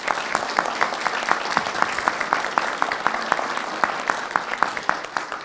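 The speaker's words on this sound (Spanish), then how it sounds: "Demos un cordial aplauso." Audience applause at a round-table event on clergy and architecture, steady dense clapping with a few sharper claps standing out, sustained throughout.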